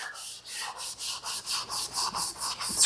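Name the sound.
sanding a yellow C3 Corvette bumper before painting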